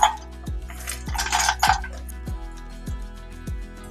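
Cashews, almonds and pistachios roasting in ghee in a kadhai, stirred with a spoon that scrapes and taps the metal in regular strokes about every half second, with a soft sizzle underneath.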